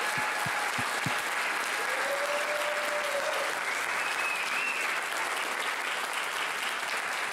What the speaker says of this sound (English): I really want to give one more round of applause to the class of 2018.